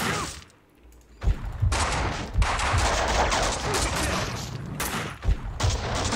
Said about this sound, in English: that guy is rudely shooting at me through this doorway